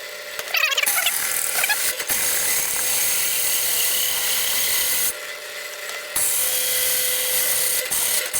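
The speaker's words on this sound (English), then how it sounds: "We can drill it through now from both sides." A drill press with a hole saw bites through a metal boss while a round bale tractor loader is built from an old forklift, a loud steady grinding whine with two short pauses.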